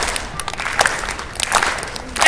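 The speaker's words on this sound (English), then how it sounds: "Everybody clapping." A street crowd in London clapping along for a bed-of-nails street performer, scattered uneven claps with a few sharper hits, outdoors and moderately loud, with some voices in the background.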